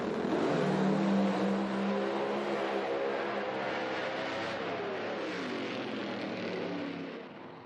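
A pro mod drag race car makes a run at an IHRA event in Milan, Michigan. Its engine gives a loud, steady, sustained roar that keeps shifting in pitch and fades slightly at the end, with no talk over it.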